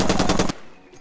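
A rapid burst of automatic gunfire from a weapon in the video game Far Cry 2, close and loud for about half a second before cutting off, followed by faint trailing noise.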